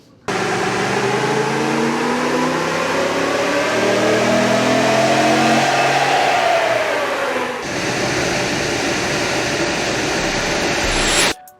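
A stock RAM 1500 pickup truck's engine revs hard on a dyno, pitch climbing steadily through a long pull before dropping off, then settling into a loud rumbling run; no talking.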